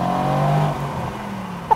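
A Mercedes-AMG C63 S Cabriolet V8 drives along an open road with its roof down, giving a steady, loud engine drone with a slight falling pitch as the revs ease, ending with a brief higher squeak.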